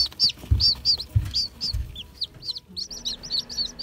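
Cochin bantam chicks chirp in quick, high, repeated peeps, close by and insistent, with a few soft low thumps early on and the calls growing denser toward the end.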